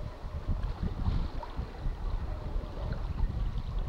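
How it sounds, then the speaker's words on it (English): Sailboat moving under spinnaker in a light breeze after leaving an anchorage, giving a steady close wash of water and soft wind rumble with no voices. "we were able to hoist the spinnaker and leave the anchorage under sail"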